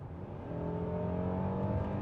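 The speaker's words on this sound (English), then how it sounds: "this car does a pretty good job on its pickup, considering it's a front-wheel drive, naturally aspirated V6" A 2022 Hyundai Palisade's front-wheel-drive, naturally aspirated V6 pulls under hard acceleration, giving a steady, rising engine drone heard from inside the cabin, growing a little louder after the first half second, with no talking.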